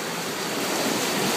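Ocean waves breaking against a tsunami sea wall on the Japanese coast, a steady close wash of surf with a slight swell in roar, wind noise over the microphone, no voices.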